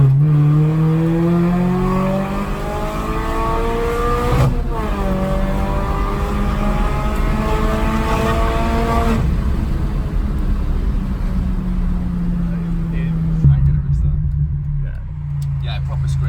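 A tuned Mini John Cooper Works F56 engine with an upgraded intake revs hard to a high-pitched scream, climbing and dropping in pitch several times, loud and close, with a steady roar underneath.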